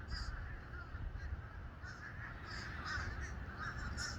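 Crows caw repeatedly in a small garden, the calls coming in short bursts of varying strength over a soft, steady outdoor background, all fairly faint and at a distance.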